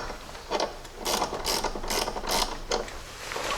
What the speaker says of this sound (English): we're going to tighten this up